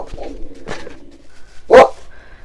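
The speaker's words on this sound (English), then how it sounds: "Got a barking dog." A dog gives a single loud, close bark, part of a sold resale item, heard after some faint low murmuring and a few soft knocks.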